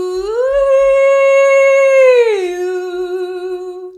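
A human voice performs a siren vocal warm-up, imitating an ambulance siren: one sustained clear tone glides up, holds high, then slides down a fifth and wavers gently near the end, loud and close.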